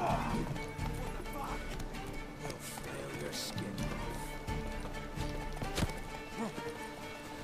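Horses gallop and neigh near a bandit camp in The Witcher 3: Wild Hunt, with rapid clip-clop hoofbeats running throughout, occasional whinnies and clanks, and game voices and a player talking underneath.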